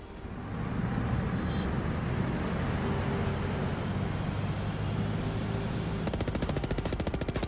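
Kodiak units in Halo Wars 2 hammer generators with rapid, continuous artillery and gunfire, a loud, dense, steady barrage close by that keeps up without a pause, with a sharper rattling burst near the end.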